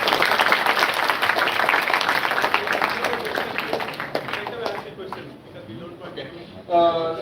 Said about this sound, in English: give a big hand for India